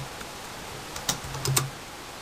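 A few soft, quick keystrokes tap on a computer keyboard over faint background hiss, close by and brief.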